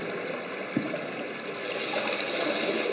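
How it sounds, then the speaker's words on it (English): A river current flowing down an old subway tunnel in the game Blindscape gives a steady, close rushing and trickling of water that fills the whole clip, with one brief splash near the start. "This old subway tunnel seems to have a river running down it."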